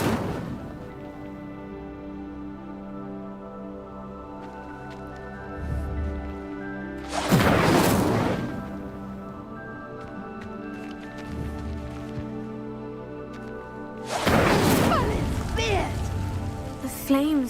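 Incendio fire spell in Hogwarts Legacy sets a pyre alight, giving two loud whooshing, crackling bursts of flame, one near the middle and another toward the end, over a steady bed of game music.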